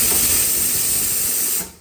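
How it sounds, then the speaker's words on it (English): A Nuova Simonelli Appia Life single group espresso machine's steam wand purges with a loud, steady hiss of steam that cuts off sharply near the end. "so before you steam milk, you wanna purge it, now put it in your pitcher, and then put it down, and it'll be a constant steam"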